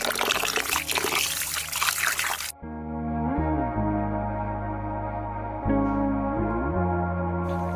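Water streams steadily into a container of rice set to soak for bagara rice, a continuous pour that shifts in pitch as the vessel fills, with a brief pause partway through.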